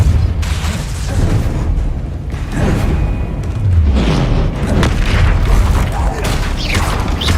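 Heavy booms from a Confringo fire spell burst in the Hogwarts Legacy video game, rolling out one after another amid a dense, continuous clamour of spell combat, loud and close.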